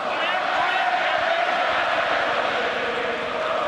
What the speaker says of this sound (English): And you can hear this crowd.